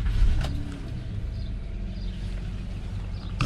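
A 2010 Honda Odyssey engine restarting, with a brief thump at the start followed by a low, steady idle rumble that continues close by.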